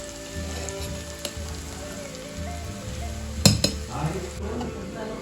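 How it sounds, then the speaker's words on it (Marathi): Gram flour roasting in oil over a low flame, a faint steady sizzle with stirring scrapes and a few sharp clinks of a spoon against the pan, close by. "याला असं भाजून घ्यायचं आपल्याला कमी आचेवर तेलामध्ये मिक्स करून घ्यायचं"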